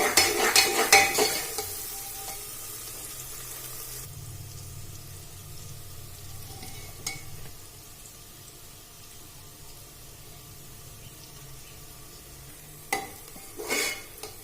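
Cumin seeds frying in hot oil in a pan, the start of a turnip curry, with a steady soft sizzle throughout and a few brief clatters of a spoon stirring against the pan.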